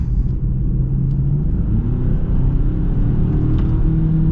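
A 2024 Genesis G70 2.5T engine hums and rumbles close by as the car picks up speed on snow and ice, pitch climbing gradually under a steady road drone.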